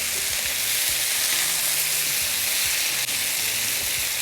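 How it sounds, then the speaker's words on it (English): Steady, loud sizzling of salmon fajitas frying in a hot pan, a continuous crackling hiss throughout. "Oh, that's sizzle."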